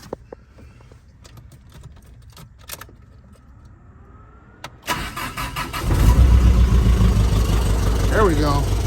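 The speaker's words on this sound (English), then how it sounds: "Starts up like a champ" A car engine cranks briefly after some faint clicks and handling noises, then catches and settles into a loud, steady idle close by, with a short chirp near the end.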